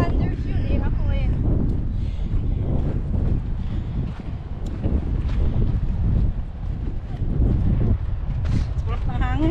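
Steady wind buffeting the microphone, a low rumbling roar under people talking throughout.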